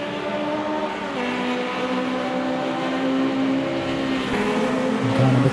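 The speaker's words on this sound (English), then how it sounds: "Gets it going now. Didn't stall the engine." Club race car at Silverstone restarting after a spin and accelerating away, engine droning steadily and rising in pitch, loud and continuous, with no talk over it.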